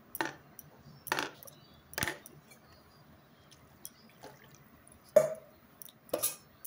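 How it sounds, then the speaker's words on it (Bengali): Boiled eggs being peeled in cold water: sparse sharp taps and small splashes, about seven scattered clicks over several seconds, close but quiet against a near-silent background. "ঠান্ডা জলে দিলে ডিমগুলো তাড়াতাড়ি ছেড়ে যাবে"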